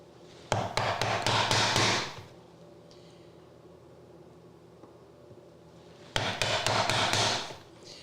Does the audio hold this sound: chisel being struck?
yes